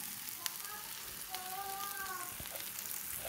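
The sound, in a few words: brain (maghaz) frying on a tawa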